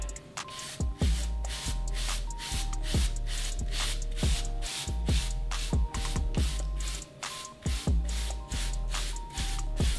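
A hard brush strokes through short hair treated with aloe vera and butter, a steady series of close, crisp scratchy swipes repeating in an even rhythm over a faint background hum.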